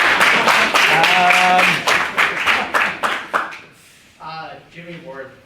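A debate audience claps in a dense burst of applause that thins into scattered individual claps and fades, then a voice speaks near the end.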